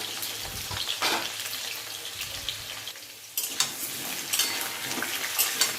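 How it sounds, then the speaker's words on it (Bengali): Potatoes frying in a pan for a home-cooked Sunday lunch, a steady close sizzle and crackle with occasional stirring scrapes, louder bursts toward the end. "আলুগুলো একটু লালচে করে ভেজে নেব, মানে সময় নিয়ে একটু ভেজে নেব"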